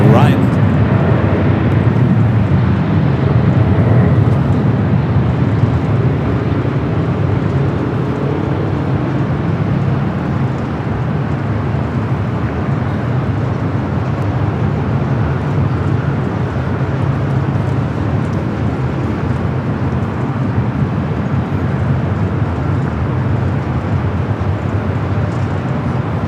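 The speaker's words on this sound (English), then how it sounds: "We do have a United Dreamliner rolling down to 25 right." A United Boeing 787 Dreamliner rolls toward runway 25 right at LAX, its engines making a continuous low rumble over the airport's background noise while a person speaks.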